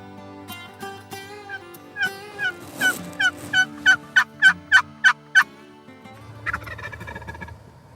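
A wild turkey gobbler sounds off during a hunt over decoys, a run of sharp, rapid gobbling bursts rising in a loud, evenly spaced series near the middle, with softer clucks and yelps before and after.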